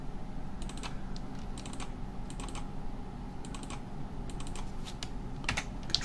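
Computer keyboard keys clatter in quick, irregular bursts of crisp clicks as the control and backspace shortcut is pressed repeatedly, heard alone over a steady low room hum.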